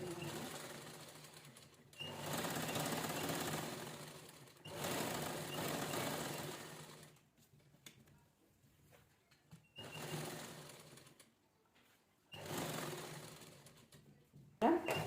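Sewing machine stitching leftover blouse fabric pieces into a cushion cover, running in several bursts of a few seconds each with quiet pauses between, a close, rapid mechanical whirr.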